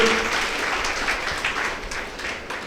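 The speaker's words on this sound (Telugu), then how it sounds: "గట్టిగా చప్పట్లతో ఆ కార్యక్రమానికి స్వాగతం పలుకుతూ" A crowd claps loudly and continuously to welcome a Patriji meditation event in Pithapuram, a dense wash of many hands close by without pause.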